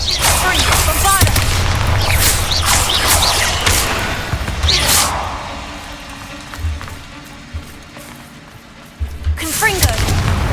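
Bombarda explosion spells from Hogwarts Legacy go off as heavy booming blasts in the first half, each followed by rumbling debris, with a character's voice heard among them and a fresh burst near the end.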